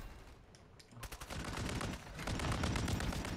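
Rapid gunfire in a Call of Duty match: dense, crackling bursts of shots run almost continuously, growing louder and busier after the first second.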